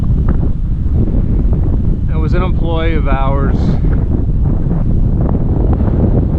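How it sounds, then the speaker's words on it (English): Outdoor wind buffeting a microphone on a windy day, a loud, constant low rumble throughout with someone talking briefly over it. "audio sounds with the wind blowing, huh? Windy day on Sunday"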